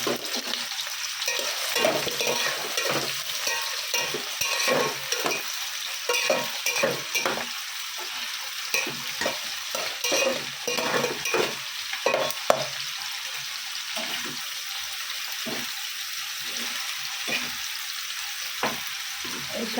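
Three kinds of greens, onion greens, mustard greens and water spinach, fry with onion in a pan: a continuous close sizzle with repeated rhythmic spatula scrapes and stirs for about twenty seconds, with no talking.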